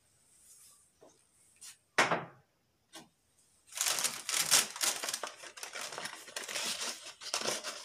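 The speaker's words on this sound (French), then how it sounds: "je vais changer le papier à poncer" A sandpaper sheet on a sander is changed while sanding armrest foam for upholstery, with a few quiet scattered rustles and clicks at first, then a sharp snap, followed by a long stretch of loud, close crinkling and tearing of paper.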